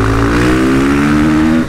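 KTM 450 supermoto motorcycle engine revving, loud and close, a single sustained high rev that holds steady and then drops off abruptly at the end.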